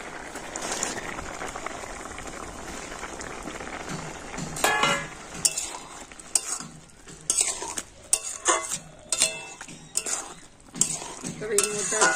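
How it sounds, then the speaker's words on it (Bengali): Fried potato and pumpkin go into half-cooked gobindobhog rice in a pot. A soft simmer and sizzle comes first, then close, irregular scraping and clattering strokes as the mixture is stirred. "এখন আমি ভেজে রাখা আলু আর কুমড়োটা দিয়ে দেব।"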